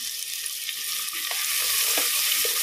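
Onion and curry leaves frying in oil for a village-style mutton curry, a steady close hiss with faint scattered stirring scrapes, no voices.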